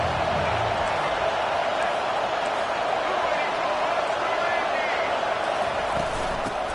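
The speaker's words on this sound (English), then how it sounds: "Decibels rising as the crowd gets behind this defense on 3rd down." A stadium crowd at a football game roars steadily and loudly behind the defense on third down, a constant wash of cheering with a commentator talking over it.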